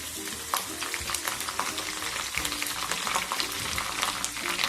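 Curry leaves and spices fry in hot oil in a small kadai, making a steady, dense sizzle with crackling pops throughout, close and fairly loud, with no talking.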